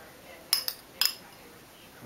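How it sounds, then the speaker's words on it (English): A small spoon clinks sharply against a dish three times in quick succession while mixing Chaliapin steak don, close and brief, over near silence. "I'll probably mix it with a small spoon."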